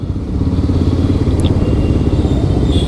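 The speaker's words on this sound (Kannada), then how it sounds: "Intruder Suzuki" A Suzuki Intruder motorcycle idles and rumbles close by in dense Bengaluru traffic, a steady low engine throb with light clatter.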